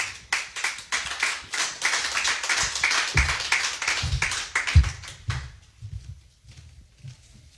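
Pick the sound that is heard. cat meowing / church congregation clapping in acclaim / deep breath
church congregation clapping in acclaim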